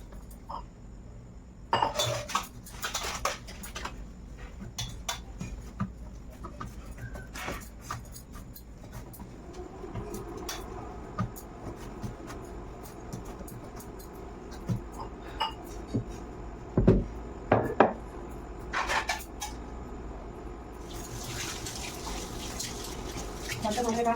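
A burnt kadhai and other dishes are washed under an intermittent running tap, with clinks and clatters of metal pots and utensils scattered throughout and a voice heard faintly at times.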